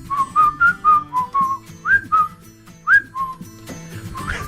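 A person whistles a tune with clear, close, bright notes, several short phrases in a lilting rhythm, and no talking over them.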